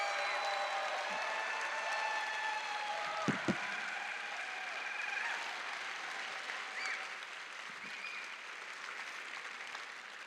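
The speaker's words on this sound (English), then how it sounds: "Do you all mind just giving them a big round of applause," A crowd at a FIRST robotics district championship applauds the event staff, sustained even clapping in a large hall that holds steady for about ten seconds before starting to thin out.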